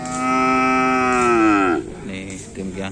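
A racing bull at a cattle race event gives one long, loud, close moo that holds steady, then bends down and fades into faint background murmur and voices.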